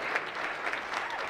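Audience at a NAACP branch anniversary celebration gives a hand clap, a brief dense round of applause heard close and steady.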